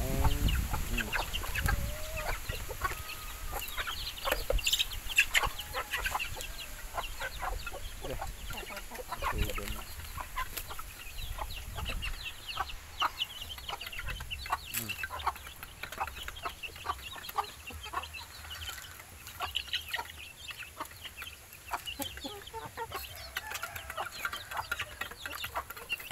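Rhode Island chickens cluck and chatter in a coop at feeding time, a dense near flock of overlapping clucks and squawks running continuously throughout.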